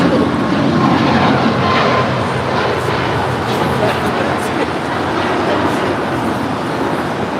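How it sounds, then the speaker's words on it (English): An Air Canada Boeing 737 MAX 8 jet departs, a loud continuous broadband engine roar holding steady throughout, heard close at the airport. "That is Air Canada Flight 555 departing to Vancouver on a 737 MAX 8."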